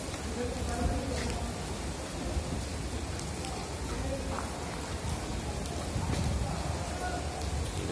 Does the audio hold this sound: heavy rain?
yes